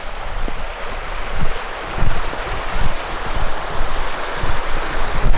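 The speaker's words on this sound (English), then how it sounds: "this is Black Brook River" Black Brook River on Dartmoor running wide near a footbridge, a steady broadband rush of flowing water with some low wind buffeting, no voices.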